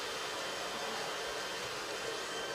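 A blow dryer runs steadily at full power, a constant airy whooshing hiss without breaks, moderately close, with no voices.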